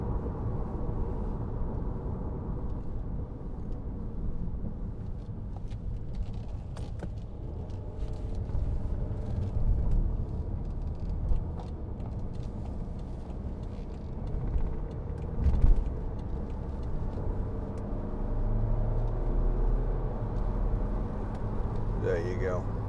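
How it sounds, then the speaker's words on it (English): A 2014 BMW 520d M Sport diesel switched into sport mode, a low steady engine and road rumble inside the cabin that swells briefly as revs rise, under someone talking. "you see the revs jump and the car gets more responsive"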